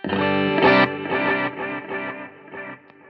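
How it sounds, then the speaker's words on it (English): Distorted electric guitar chords with a delay effect, each strike followed by echoing repeats inside a wash of reverb, played fairly loud and alone. "You can still definitely hear the delay hits above the reverb"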